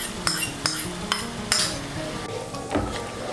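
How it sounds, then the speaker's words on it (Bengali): A spoon stirs yogurt into a poppy seed and cashew paste for a potol dish, with repeated sharp clinks of metal against the bowl, then softer scraping and mixing sounds up close. "টক দইটাকে ভালো করে মিশিয়ে নেব।"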